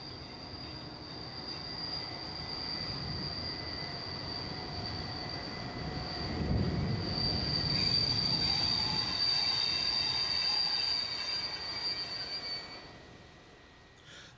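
A Belgian mainline diesel locomotive and its train roll past with sustained high-pitched wheel squeal over a low rumble that swells in the middle and fades toward the end, heard alone.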